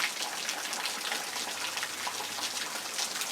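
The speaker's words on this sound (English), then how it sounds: "It's Monday morning and we're getting rain." Steady rain falling outdoors on a Monday morning near woods, a dense, even hiss of drops and light splashing that continues without pause, fairly soft and close.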